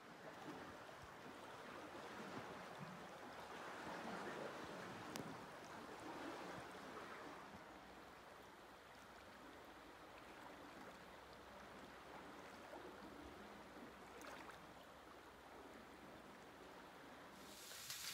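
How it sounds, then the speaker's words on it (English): Water of the Pine River flows in winter as a constant broad rush, steady and moderately distant, with faint wind noise and no voices. "You gotta love that Pine River."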